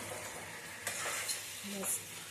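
Chicken and onions cooking in a pan with a steady, faint sizzle, a brief utensil scrape or two as they are stirred, and a soft voice near the end.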